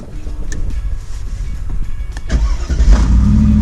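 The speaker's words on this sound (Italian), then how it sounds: "guardate che figata il sistema di accensione del motore dell'SLR" A Mercedes SLR McLaren is started up: a few mechanical clicks and whirs, then the engine catches with a loud, deep rumble that settles into a strong low idle, close up with no talking.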